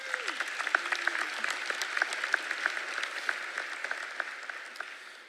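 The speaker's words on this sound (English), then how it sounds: "let's give an opportunity to give our friends and family a big round of applause." Graduation commencement audience gives a round of applause, steady mid-level clapping with distinct sharper claps standing out, sounding somewhat distant and thin, tapering off near the end.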